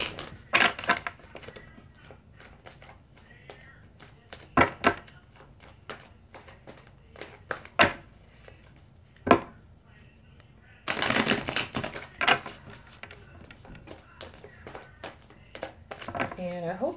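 Playing cards shuffled in bursts of quick riffling clicks at close range, with sporadic taps before a longer dense flurry near the end.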